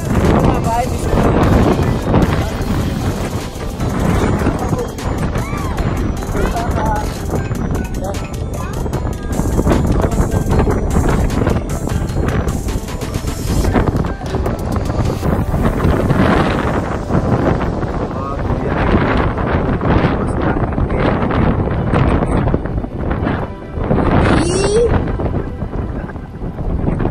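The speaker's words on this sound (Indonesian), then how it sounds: "Anginnya kencang banget" Strong wind gusts across an outdoor spot in Korea, a loud steady roar of buffeting air close on the microphone for the whole stretch, with a voice talking over it.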